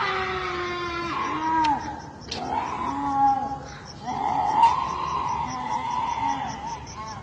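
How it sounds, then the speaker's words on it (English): A cat yowls and meows in drawn-out, wavering cries, several in a row, loud and close, with a person's voice briefly in the mix. "You're a scary kitty cat."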